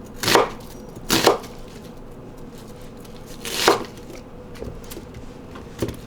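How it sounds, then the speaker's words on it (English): A knife chops a medium onion into chunks on a board, giving three loud separate thuds spaced over several seconds, then two softer taps near the end, with quiet kitchen background between. "I'm using 1 medium-sized onion. Just going to cut this into chunks."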